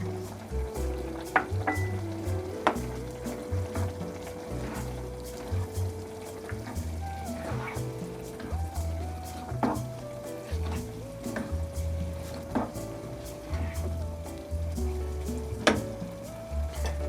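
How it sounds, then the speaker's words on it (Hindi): Carrot halwa cooking in a pan with milk powder, coconut and sugar is stirred repeatedly, with rhythmic scraping and soft sizzling over a steady tonal background. "मिल्क पाउडर डाल दूँगी, ये भी मिक्स कर दूँगी इसमें।"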